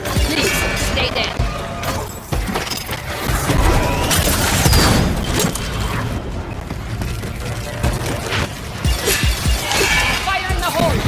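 Repeated loud crashing blasts and shattering impacts from grenades in the co-op shooter game Second Extinction, mixed with gunfire and voices talking over the chaos throughout.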